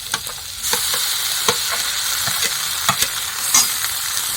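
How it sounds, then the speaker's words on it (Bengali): Ground spice paste hitting hot oil for a tengra fish curry, a loud close sizzle with repeated spatula stirring taps and scrapes, no talking. "এই বাটা মশলাগুলো সব এখন দিয়ে দেবো"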